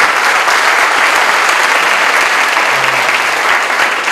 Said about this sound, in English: I would request all of you to give him a huge round of applause.